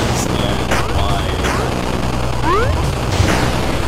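Explosions and gunfire from the Gang Garrison 2 game crackle in a dense, loud, continuous barrage with repeated sharp bangs and occasional whooshing tones, with an excited player's voice talking over it.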